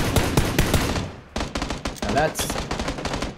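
Rapid bursts of gunfire crack out in a PUBG match, with sharp, close shots in quick volleys split by a short gap, while players talk over the shooting.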